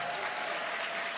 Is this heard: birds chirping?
no